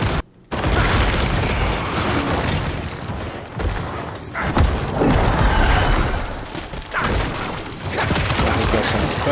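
Dense bursts of booming explosions roll over one another in a necromancer video game as the Decrepify curse lands, loud and continuous with clattering mechanical effects.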